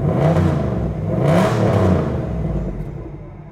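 A Cadillac Northstar V8 engine revs up with a deep, throaty exhaust rumble, rising in pitch around the middle before settling back to a steady loud idle.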